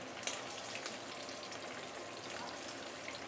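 Ikan kembung fish deep frying in hot oil, giving a steady, dense crackling sizzle that holds level from start to finish, close by and with no one talking.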